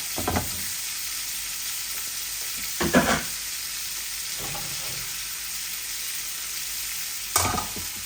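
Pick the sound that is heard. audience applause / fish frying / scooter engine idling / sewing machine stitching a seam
fish frying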